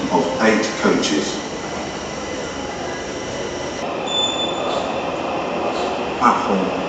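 A train moves through London Bridge station, its rolling rumble and wheel squeal steady across the platform, with a brief high screech near the end and a public-address voice speaking over it.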